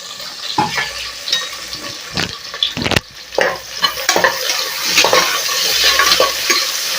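Sliced onions sizzling and frying in a pan for egg biryani, with repeated close scraping stirs and clatters over a steady crackling hiss.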